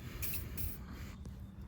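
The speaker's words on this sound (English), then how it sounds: "so I got some WD-40. I'll hit it with that" WD-40 lubricant sprayed onto a crusty go kart part in short bursts, with two or three close hissing sprays that start and stop in quick succession.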